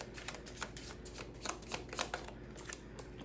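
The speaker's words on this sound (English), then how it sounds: "we will pull some Rebel Oracle cards" Rebel Oracle cards shuffled by hand at close range, a steady soft riffling patter with sharper flicks every half second or so, no talking.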